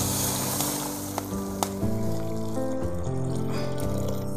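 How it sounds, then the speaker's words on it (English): Water poured into a simmering pot of Bodo-style chicken and bamboo shoot onla curry, a steady sizzling pour under background hum and tonal music-like lines, with no talking. "Adding in water."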